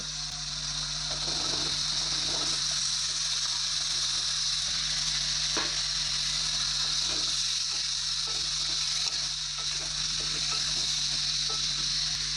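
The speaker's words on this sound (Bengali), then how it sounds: "এবার কেটে রাখা কুমড়োগুলো সব দিয়ে দেব" Cut pumpkin pieces fry in a hot pan for a Bengali pumpkin-and-prawn dish, giving a steady, even sizzle with soft stirring rattles throughout, close and with no talk.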